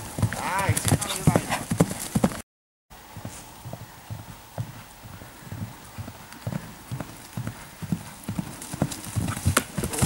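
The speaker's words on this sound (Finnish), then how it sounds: "siinä oli ihan hyvä laukka" A pony canters on a cross-country jumping course, its hooves drumming a rapid, rhythmic clip-clop close by, with a brief dropout early and people talking over the hoofbeats.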